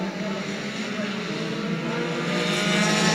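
Race cars in the Bombers class roar together at New Smyrna Speedway on a restart, a dense steady engine drone that swells louder toward the end.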